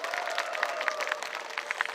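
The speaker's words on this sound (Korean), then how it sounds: "다시 한번 저희 공연팀에게 큰 박수 한번 부탁드리겠습니다" An audience applauds a performing troupe after a stage show, dense continuous clapping throughout, moderately loud and steady with a faint murmur of crowd.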